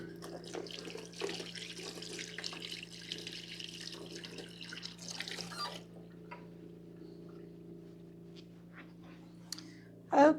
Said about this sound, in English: I'm going to wash my hand off